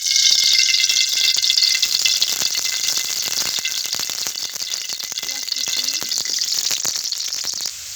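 Onions frying in soybean oil in a wok, giving a bright, steady sizzle with rattling clatter from the pan that runs the whole time and eases slightly toward the end.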